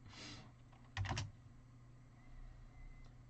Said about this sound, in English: you don't need to hear what I'm typing